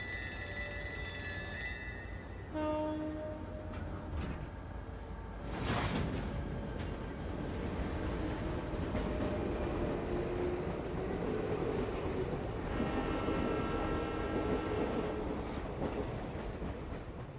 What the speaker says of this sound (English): So we're on a train now